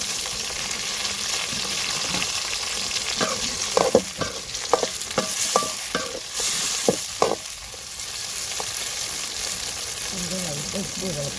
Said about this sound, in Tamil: எந்திரிச்சு தக்காளி போட்டுக்கலாங்க.